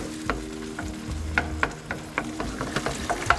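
Puttanesca sauce made with tinned tomatoes bubbles and sizzles in a pan, with close, rhythmic popping and spitting over a steady low simmer and no voices.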